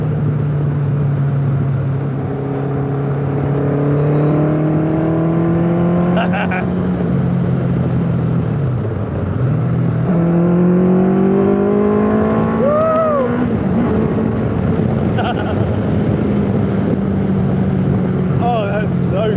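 A Kawasaki ZZ-R1200 engine drones steadily under acceleration during a test drive, loud and close, its pitch climbing through gears with a dip and rise midway as a voice talks over it.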